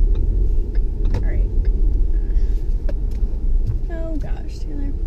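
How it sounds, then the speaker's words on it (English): A car making a U-turn across roadside grass hums with a steady, close engine rumble and road noise that runs throughout, while people chatter inside the cabin. "I'm gonna make a U-turn in the grass right here"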